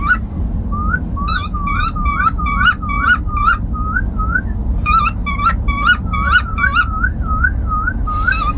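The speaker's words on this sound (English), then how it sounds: "Listen to the whistle, guys." A cockatiel whistles a repeated chirpy mating tune of short rising notes in quick bursts over a steady low hum, fairly close.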